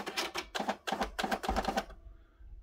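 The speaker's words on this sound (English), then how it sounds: "This unit is on, and I should be able to type here." A Nakajima WPT-160 electronic daisy-wheel typewriter types a handful of letters, about five sharp, even clacking strikes close by, followed by a quiet hum.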